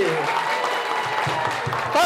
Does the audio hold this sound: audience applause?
yes